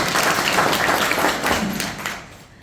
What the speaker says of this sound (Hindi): ताली रहेगी सब लोग भाई।